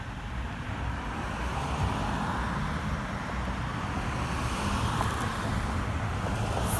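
Steady roadway traffic with cars passing by, a continuous loud broadband rush of tires and engines with no pauses, recorded from the roadside.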